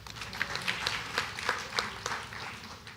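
A congregation claps together at a Tamil church service, many hands making quick, uneven bursts of applause that rise and fall at moderate volume.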